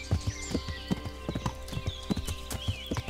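A horse's hooves clip-clop at an even walking rhythm in the video game Kingdom Come: Deliverance, clear and close, with soft tonal game sounds in the background and no talking.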